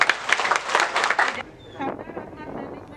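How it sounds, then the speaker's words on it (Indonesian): An indoor crowd at an official regional vaccination event claps loudly and steadily for about a second and a half for the regional intelligence chief, then the clapping stops abruptly, leaving faint room noise and shuffling. "Kita beri aplaus dulu kepada"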